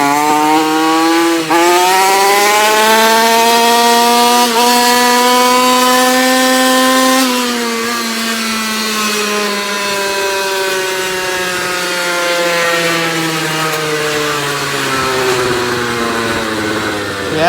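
Small engine on a Goped Phat Boy scooter with a swapped engine, running loud and steady at high revs, its buzzing whine rising and falling slightly as the throttle shifts, with no talking.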